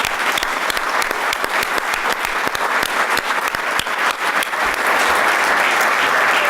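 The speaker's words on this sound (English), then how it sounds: "give them a round of applause" Sustained loud applause from a large crowd at an athlete of the year awards show, steady clapping throughout without a break.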